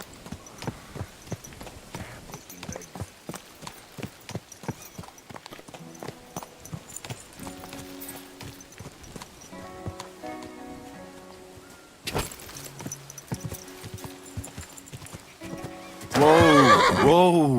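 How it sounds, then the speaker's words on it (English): In the medieval game Kingdom Come: Deliverance II, a horse's hooves clip-clop in a steady rhythm, then a loud, close neigh sounds at the end, with a short thump partway through. "This must be the ugliest horse I've seen in my life."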